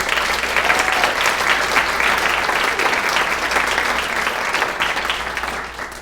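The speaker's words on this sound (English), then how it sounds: "Please join me in giving them a round of applause." An audience at a city's State of the City event gives city staff a round of applause, a loud, even burst of clapping from a large crowd that holds for several seconds before tapering slightly.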